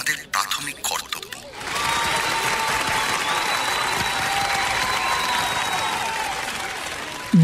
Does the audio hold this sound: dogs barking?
no